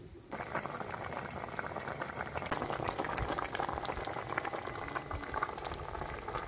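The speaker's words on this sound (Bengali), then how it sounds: "তরকারি বন্ধুরা ফুটে উঠেছে" A pot of crab curry with Malabar spinach bubbles at a vigorous, continuous boil, close up with dense popping and gurgling throughout and no voices.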